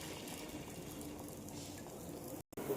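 Egg omelette batter goes into a hot pan for a Tamil home-style meal, giving a steady, close bubbling sizzle that holds evenly throughout before a brief cut near the end.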